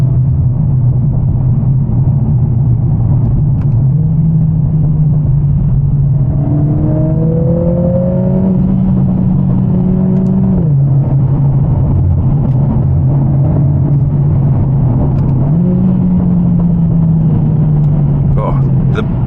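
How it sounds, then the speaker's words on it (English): A Mercedes CLA45 S AMG engine drones inside the cabin in manual mode, its pitch stepping up sharply as gears drop and revs flare on downshifts, over a steady road rumble. "Absolute best thing about driving in manual mode in this car is the downshifts."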